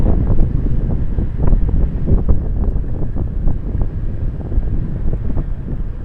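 Strong gusts buffet the microphone in a continuous low roar, rising and falling in uneven bursts with no voices.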